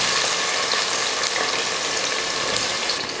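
Sliced onions, cut lengthwise, frying in hot oil give a steady, dense sizzle and crackle. It runs continuously and fairly loud throughout, with no talking.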